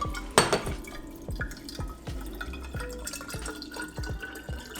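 Water dripping and trickling through crystals, a string of small, close drips falling at an irregular rhythm over a faint running-water background, with one brighter splash early on.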